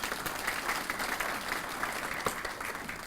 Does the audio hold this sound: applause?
yes